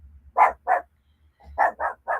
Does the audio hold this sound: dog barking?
yes